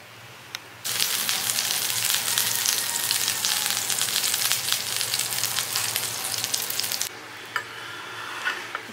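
Loud, steady sizzling of a vegetable sandwich toasting in a hot pan, starting abruptly and holding for several seconds before cutting back to a quiet hiss with a few soft knocks.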